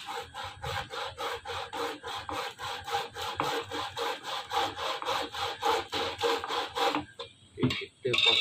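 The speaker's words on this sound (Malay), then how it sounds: "kita potong je potong serong" A hand saw cuts a pipe at an angle, about halfway through, while making an eel trap. Steady, rhythmic back-and-forth strokes run close and loud for about seven seconds, then stop, followed by a few scattered knocks.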